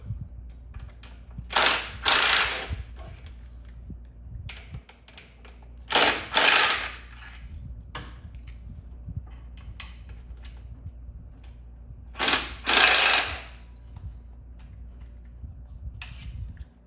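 A ratchet fitted with an 8mm socket backs out the throttle body bolts on a Dodge Challenger intake, giving three bursts of rapid clicking spaced several seconds apart, with quiet pauses and small taps between them.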